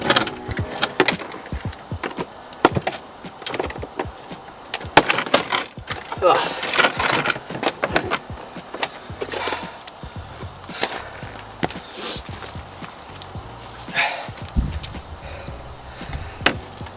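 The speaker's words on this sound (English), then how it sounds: "I just used a flathead screwdriver to help pry the clips down and slowly push out the diffuser" A flathead screwdriver pries plastic clips loose to free a car rear diffuser, producing irregular close scrapes, snaps and knocking clatter throughout, with some talk mixed in.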